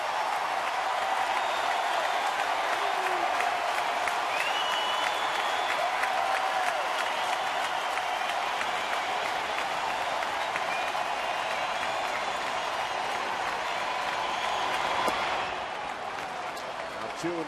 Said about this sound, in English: Fans rise to their feet, at least the Astros portion of the crowd.